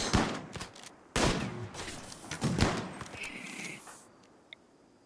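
Gunfire in the video game Tragedy Waits for No Pawn: a few loud, sharp shots in quick bursts, then fading to quieter ambience.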